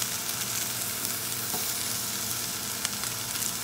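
A ribeye steak sears on a hot cast iron griddle with a steady, close, dense sizzle that carries on without a break, along with a few faint ticks and no talking.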